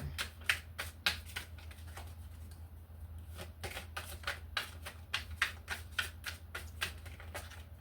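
Tarot cards being shuffled and handled, a quiet run of sharp irregular riffles and snaps close by over a low steady hum, with short pauses between bursts and no talk.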